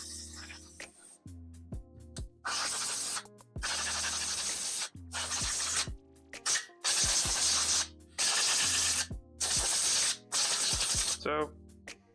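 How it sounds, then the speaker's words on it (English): Compressed air blasts through a Suzuki TS 125 R two-stroke carburetor in repeated loud hissing bursts of one to two seconds, separated by short gaps of clicks and handling noise. "So now we are going to do some compressed air. Okay, just we'll put it over here. So just blow it out."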